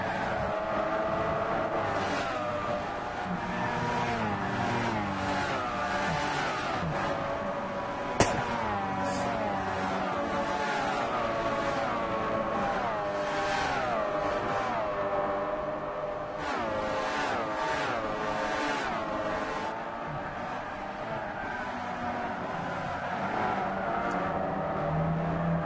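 Lancer race cars roar around Monza in Gran Turismo 6, several engines droning and whining together in a steady, unbroken stream, their pitch rising and falling through gear changes.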